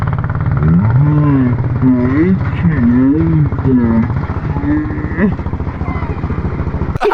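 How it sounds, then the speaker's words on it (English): A go-kart engine revs up and down in a buzzing, pulsing whine, loud and close, rising and falling repeatedly for several seconds. "Did you not hear it was still revving through here?"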